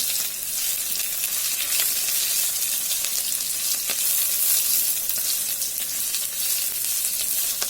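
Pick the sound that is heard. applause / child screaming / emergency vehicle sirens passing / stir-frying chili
stir-frying chili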